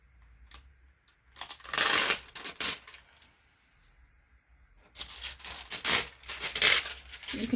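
Tea-dyed onion skin paper torn along a homemade tear ruler, with two bursts of ripping and rustling, the second longer and busier, close and fairly loud between quieter handling noises.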